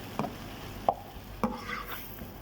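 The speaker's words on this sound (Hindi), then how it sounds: "पहले चिकन को हम फ्राई करेंगे" Chicken cooked with its stock frying in a pan, a low bubbling sizzle broken by three distinct knocks and scrapes of a spoon stirring, close by, with no speech.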